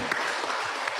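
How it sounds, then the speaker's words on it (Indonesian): Applause at a podcast session marking Indonesia's Tax Day: a brief, dense wash of clapping that holds steady and fairly loud for its full second. "Tepuk tangan dulu dong."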